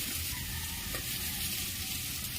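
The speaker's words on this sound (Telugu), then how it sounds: "ఈ ముక్కలు కొంచెం వేగుతున్నాయి కొంచెం పసుపు అలాగే అల్లం వెల్లుల్లి పేస్ట్" Vegetable pieces fry in hot oil with turmeric and ginger-garlic paste for a lentil rasam (pappu charu), giving a steady, close sizzle with faint stirring and no talk.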